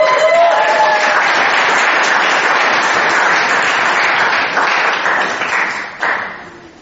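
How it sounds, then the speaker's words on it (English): Audience applause at a musical group's tenth annual performance, a dense, steady clapping from a crowd that holds for several seconds, then fades and thins out with a few last claps. "please, once again, cheer her up with a big round of applause"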